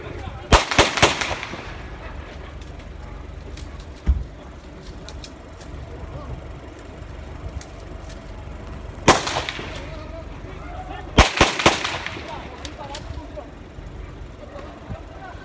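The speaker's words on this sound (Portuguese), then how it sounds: "Mas tem uns tiros grossos aí" Heavy gunfire during a police action against bank robbers in Piçarras: several clustered bursts of loud, booming shots with quieter single reports between them, against a constant background hum.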